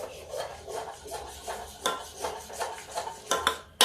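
Rice papad batter is stirred in a pot over very low heat, with repeated soft scraping and rubbing strokes against the bottom in an uneven rhythm, close by and with no talking.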